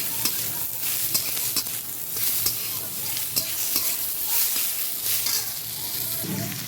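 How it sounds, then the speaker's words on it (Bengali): Onions frying in hot oil with cumin seeds, dry red chilli and bay leaf, a steady close sizzle with scattered pops and occasional spatula scrapes against the pan. "আর এখানে পেঁয়াজ দিয়ে দেবো পেঁয়াজ দিয়ে দিলাম"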